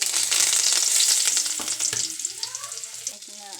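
Curry leaves dropped into hot oil for pepper chilli chicken, giving a loud, bright burst of crackling sizzle that gradually settles and fades over a few seconds, with a few stirring clinks.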